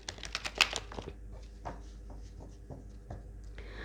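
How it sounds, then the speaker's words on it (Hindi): Tarot cards being shuffled by hand, a soft series of papery flicks and riffles close by, quick at first and then sparser and fainter, with no talking. "मैं इसको अच्छे से शफल कर लेती हूँ, उसके बाद हम कार्ड निकालते हैं"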